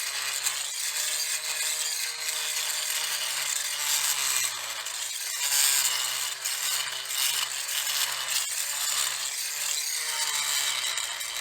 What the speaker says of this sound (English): I'm using a multi-cutter, which is a very handy tool to have on a boat